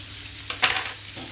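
Salmon and cod fillets frying in plenty of oil in a pan, a steady soft sizzle with a brief louder crackling flare in the middle.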